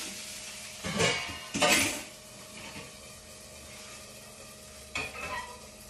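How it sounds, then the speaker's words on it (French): Small cheese bites fry quietly in a pan while a utensil stirs and scrapes, in three distinct bursts over a soft background sizzle, with no speech. "Il y a des petits pavés au fromage que je fais cuire"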